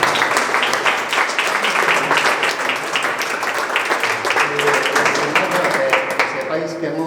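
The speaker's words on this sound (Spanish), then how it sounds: "a Javier, por favor, un aplauso." An audience at a 75th-anniversary celebration of the magazine "Azagra en Fiestas" applauds for Javier, with dense, sustained clapping filling the room and speech heard over it.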